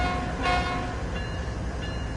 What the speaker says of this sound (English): The horn on this train could be a bit better